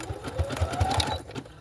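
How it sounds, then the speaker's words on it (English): A foot-pedal sewing machine stitches fabric ruffles, a quick rhythmic mechanical thumping and whir up close, running steadily for a moment before slowing. "I was just using my foot pedal to make the sewing machine go"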